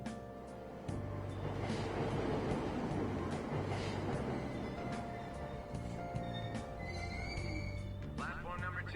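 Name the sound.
train arriving at station in video game Persona 5 Royal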